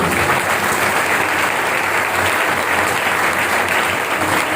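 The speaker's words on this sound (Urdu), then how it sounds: "زوردار تالی" A church congregation gives loud, continuous applause, a dense steady roar of many hands clapping at once with no pauses.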